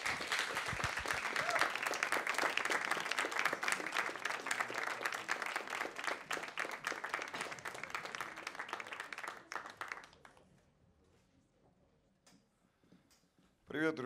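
A concert crowd at a live blues show in Novaya Stsena claps and cheers as a Yekaterinburg band takes the stage, loud applause thinning and fading after about ten seconds before a brief sound near the end.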